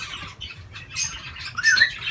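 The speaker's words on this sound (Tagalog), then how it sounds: "Gandang ibon ito." A large imported budgie squawks and chirps inside a big aviary cage, with a few sharp calls and light flutter, close and moderately loud with no talk.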